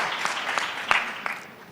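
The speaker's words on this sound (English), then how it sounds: "with the loudest round of applause we have had for the entire day, please put your hands together" A conference audience applauds to welcome a healthcare panel, a short burst of dense clapping with a few sharper individual claps, fading toward the end.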